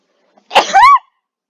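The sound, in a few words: sneeze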